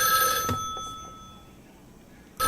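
A telephone rings in the horror video game Spirit Hunter NG, one shrill electronic ring that fades out before a second burst cuts in at the very end, clear and loud with no talk over it.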